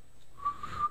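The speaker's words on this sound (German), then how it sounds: "Ich glaube, mein Stein pfeift." A stone whistles in the video game The Legend of Zelda: Skyward Sword, giving a few short, thin whistle tones over faint background noise, with no voices.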